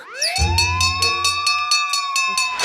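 A fire engine siren wails upward and then holds a loud, steady tone, with a low rumble underneath and regular pulsing bursts throughout.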